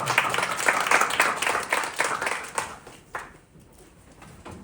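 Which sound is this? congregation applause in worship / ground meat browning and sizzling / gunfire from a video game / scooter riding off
congregation applause in worship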